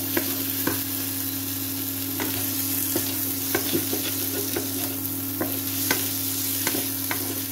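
Potato curry (aloo dum) is sautéed and stirred in a pan: a steady hiss of frying under a hum, broken by sharp scraping clicks as the spoon moves every second or so.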